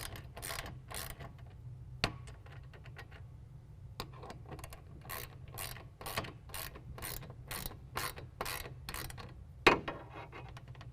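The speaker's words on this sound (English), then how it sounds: "I'm using a ratcheting wrench." A ratcheting wrench tightens clamps on a BAK Revolver X2 tonneau cover on a 2017 Nissan Titan, giving a series of quiet, close clicking strokes in an uneven rhythm with brief pauses.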